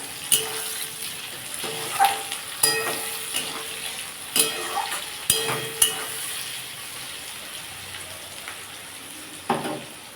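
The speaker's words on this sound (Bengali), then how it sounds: "আমি এর মধ্যে একটু চিনি আর চিনিতে কাঁচা লঙ্কা চিড়ে দিয়ে দিলাম ভালো করে ভাজতে হবে" Green chillies slit and fried with a little sugar in a pan, giving a steady sizzle punctuated by several sharp scraping stir strokes and clinks, close and moderately loud, with no talking.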